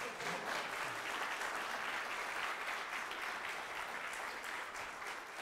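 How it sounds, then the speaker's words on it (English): A church congregation claps steadily for graduates, a dense, even round of applause lasting throughout, moderately distant in the room. "go ahead and clap."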